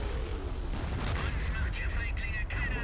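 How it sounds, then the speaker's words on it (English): A British 25-pounder artillery gun fires in a Blitzkrieg mod wargame set in 1943 North Africa, with muffled booms and scattered gunfire amid battle noise. "That's a 25-pounder gun."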